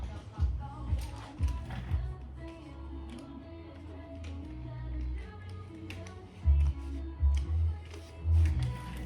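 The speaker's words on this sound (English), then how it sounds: "So what you do is you get that riv nut tool." A rivet nut tool is handled in a garage during installation of bumper add-ons on a Mk III Toyota Supra, giving scattered metallic taps and clicks over a steady low hum, with louder clunks near the end.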